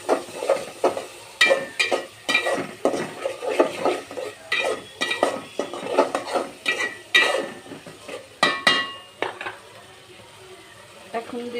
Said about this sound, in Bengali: এখন দিয়ে দিব একটু আদা রসুন বাটা।